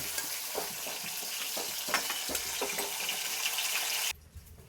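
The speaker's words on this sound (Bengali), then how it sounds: "মাছটা আমি এইভাবে ভেজে নিব, খুব একটা বেশি কড়া করে ভাজবো না।" Rohu fish pieces fry in hot oil, a close, busy crackling sizzle with scattered pops and stirring, continuous for about four seconds before cutting off abruptly.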